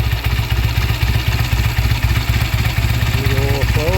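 A 1955 AJS Model 20B motorcycle engine idles loudly and steadily as it warms up, a close, even low thumping pulse with a brief rising tone near the end.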